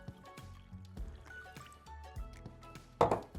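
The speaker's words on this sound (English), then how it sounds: "So let's pour it now into a tube" Liquid fungus culture being poured into a tube in a lab, a soft intermittent trickle with small drips and clinks, faint and close, ending in a sharper splash or knock.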